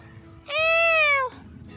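A single clear, drawn-out meow from a nearby cat in an empty park, lasting under a second, against a quiet outdoor background.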